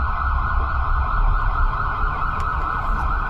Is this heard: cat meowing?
no